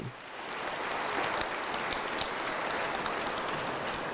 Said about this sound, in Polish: To brawa dla całej rodziny Radia Maryja